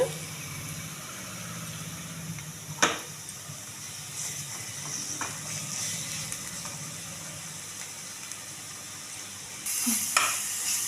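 Ginger garlic paste and green chillies fry in oil in a pan for a keema dish. A continuous hiss carries through, broken by a few stirring scrapes and a louder burst of sizzling near the end.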